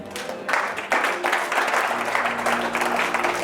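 A church congregation at a Sunday service applauds and acclaims Jesus, a dense burst of clapping and cheering that swells after the first second and carries on steadily, close and loud.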